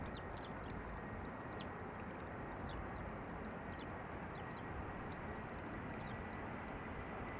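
Heavy aircraft arriving at Amsterdam Schiphol Airport, a broad steady roar of distant jet engines filling the scene evenly, with faint chirping calls scattered above it.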